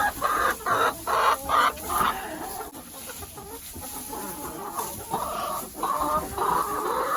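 Chickens cluck in short, repeated bursts close by, with a brief quieter lull in the middle before the clucking picks up again.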